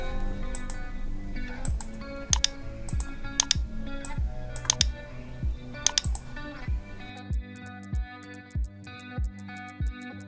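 Computer keyboard keys tapped while typing shortcuts in a scheduling app, giving sparse, sharp clicks over steady background music, with no talking.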